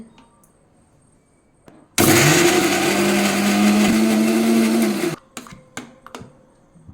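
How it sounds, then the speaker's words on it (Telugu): A kitchen mixer grinder blends cumin, salt and chillies for a spinach and onion chutney, a loud close whirring roar that starts abruptly, holds steady for about three seconds, then cuts off, followed by faint clatter. "జీలకర్ర, ఉప్పు అండి. ఇలా గ్రైండ్ చేసుకోవాలండి."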